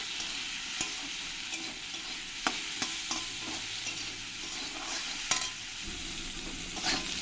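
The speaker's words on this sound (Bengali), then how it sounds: "এবার আমি আলুর মধ্যে দিয়ে দেবো একটু লবণ আর দিয়ে দেবো একটু হলুদ দিয়ে আলুর সঙ্গে ভালো করে মিশিয়ে নেবো" Potatoes frying in a pan as salt and turmeric are stirred in, a constant low sizzle broken by scraping spatula strokes and light clinks, no voices.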